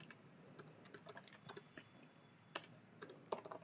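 Irregular clicks from a computer keyboard as someone types, arriving in short bursts with brief pauses, fairly faint and close by, with no voices.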